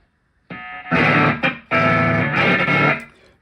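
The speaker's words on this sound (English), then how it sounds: "We know the distortion is working." Electric guitar played through a RAT-style mod distortion pedal, loud fuzzy strummed chords in bursts with a brief gap between them, close and alone with no talk.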